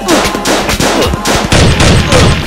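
Rapid bursts of gunfire crackle loudly through a chaotic police chase, sharp repeated shots stacking into volleys over a dense, noisy background.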